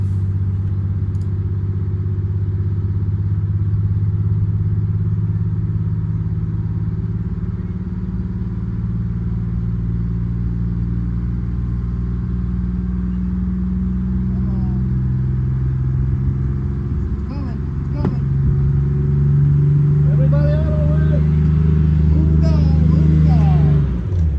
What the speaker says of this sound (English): As the bus starts to move, pay attention to the drive wheels as the sand was still soft, so we really had to send it.